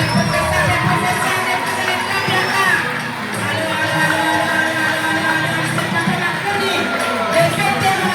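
A school cultural-day crowd cheers and shouts for teachers, children's voices rising in a dense, continuous roar that stays loud throughout with a brief dip midway.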